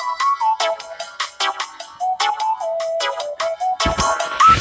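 A ringtone from the video game Nexomon plays alone, a loud electronic melody of short repeating notes that ends in a brighter burst.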